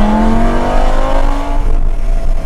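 Naturally aspirated Lamborghini Superleggera engine revving hard toward 8000 rpm, a loud, close, rising mechanical howl with climbing harmonics that swells over about a second and a half, then drops back to a steady rumble.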